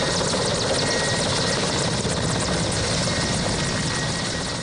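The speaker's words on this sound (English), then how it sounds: "The landing of this chopper and offloading of this merchandise" A helicopter landing at an AMISOM mission site in Somalia, its rotor and engine roaring as a loud, steady, close broadband wash with no pause.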